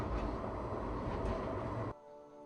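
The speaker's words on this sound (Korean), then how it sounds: "상태 점검을 마치고 출발하는 트램" Rumbling of a catenary-free tram departing on a test run, a broad steady roar of wheels on track that cuts off abruptly near the end, leaving a quieter hum.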